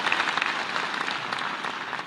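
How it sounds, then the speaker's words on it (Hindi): Sustained, dense applause from a large audience welcoming guests at an environmental conference at Ravindra Bhavan marking three years of a tree-planting pledge, steady and loud throughout. "आप आए इसलिए तालियां बजा के आप स्वागत कीजिए"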